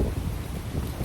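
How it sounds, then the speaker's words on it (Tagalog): Strong cold wind on Mt. Tapyas in Coron buffets the microphone with a continuous low roar and rumble, near and loud, with no talk. "Sobrang hangin na guys."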